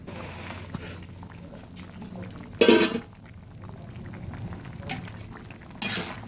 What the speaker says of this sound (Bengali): জল দিয়ে এবার ফুটতে দিলাম।